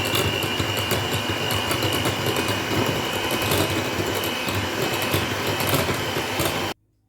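Electric mixer whirring steadily through vanilla cake batter, a loud continuous motor drone with a high whine that runs unbroken for nearly seven seconds, then stops abruptly.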